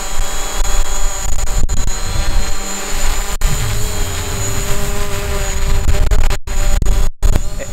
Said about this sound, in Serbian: možemo da čujemo da se dron malo bori